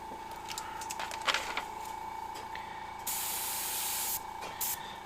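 An airbrush sprays paint onto a leprechaun skull in short hissing bursts, with a steadier, louder stretch of spray near the end and a faint constant tone underneath.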